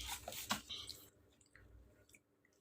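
Someone bites into a crisp crepe from the bottom end, with a few sharp crunchy bites up close followed by quieter, softer chewing.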